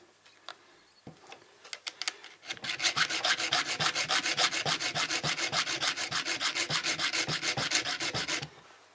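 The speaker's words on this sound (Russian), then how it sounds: "А этот как раз вот надфилек круглый. Как раз четко подходит." A small round needle file sharpens the chain of a mini chainsaw, starting with a few scattered scrapes, then settling into a steady fast run of rhythmic rasping strokes, close and loud, with no talk.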